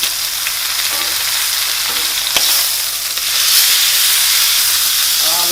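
Meat sears in hot oil in a pan after being flipped, a steady close sizzle and frying hiss running unbroken with a few sharper crackles, no voices.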